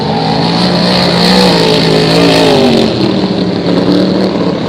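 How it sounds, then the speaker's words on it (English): A loud, close engine roars continuously at high revs, a vintage racing boat's motor droning and whining down the straightaway during a regatta heat, with little change in pitch. "I see him screaming down the straightaways, trying to get that boat into a corner"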